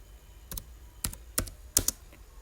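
A computer keyboard typed on in a short burst, five or six distinct close clicking keystrokes spaced irregularly, fairly quiet with no talk.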